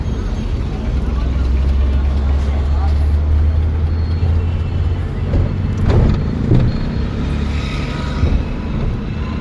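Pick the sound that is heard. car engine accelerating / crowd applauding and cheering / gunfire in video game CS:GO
car engine accelerating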